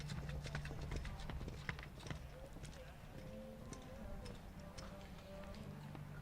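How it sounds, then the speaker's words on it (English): Hooves of a 13-year-old gelding thud in irregular clip-clop beats during a show jumping round, a heavier strike standing out midway; moderately close under a commentator's voice in a large arena. "Eva Fisherman here rides Casalvano, 13-year-old gelding by Casal"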